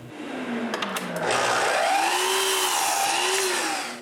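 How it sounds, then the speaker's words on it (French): Power saw cutting pieces of maple wood in a shop: a steady, loud whining drone that rises and holds, with pitch sweeping as the blade bites, running nearly the whole time. "Je commence par me couper des bouts d'érable."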